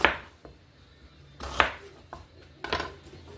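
A knife chops a spicy onion into quarters on a board: three or four sharp, separate cuts with quiet gaps between them, close and fairly soft.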